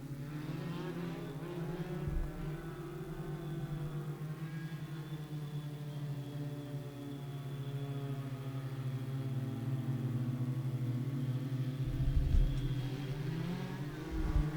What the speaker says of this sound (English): We're Legends racing as they try to go 3 wide down the front straightaway.